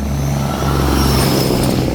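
A car passes close by on a road outside a Jamaican corner shop. Its engine rumbles steadily and loudly, building slightly as it nears, with no talk over it.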